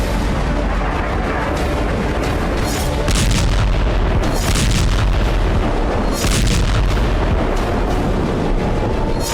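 Loud, continuous barrage of booms and blasts from rocket and ballistic missile strikes over Tel Aviv, with repeated heavy bursts that rise above a constant rumbling roar for the whole stretch.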